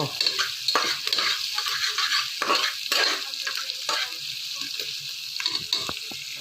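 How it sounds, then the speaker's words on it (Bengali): Green chili and onion frying in hot oil, a steady bright sizzle with a spatula stirring and scraping the pan in repeated strokes, close and continuous without talk. "কাঁচামরিচ পেঁয়াজ তেলের মধ্যে দিয়ে দিলাম এখন ব্রাউন কালার আসা পর্যন্ত অপেক্ষা করব"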